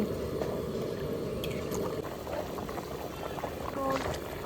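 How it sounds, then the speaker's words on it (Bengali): A thin country chicken curry broth boiling in a pot, with a continuous bubbling, churning hiss that stays steady throughout, plus a few faint background noises. "মাংসর ঝোল ফুটে গেছে"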